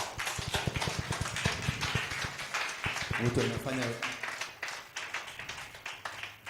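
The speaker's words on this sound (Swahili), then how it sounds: "Pigeni Yesu makofi." Congregation clapping in church during a lunch hour session, rhythmic hand claps that swell in the middle and then thin out, with a voice speaking over the clapping.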